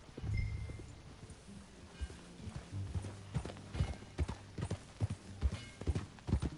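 In Red Dead Redemption 2, a horse's hooves clip-clop in a quickening rhythm as the rider sets off, with close, distinct footfalls over soft ambient game noise and a faint snort.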